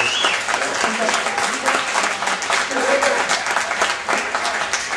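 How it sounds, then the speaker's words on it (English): Dense, steady applause fills a conference hall at a regional conference day, loud and continuous from start to finish, with some voices mixed into the crowd noise. "So everyone give a big round of applause for Tom."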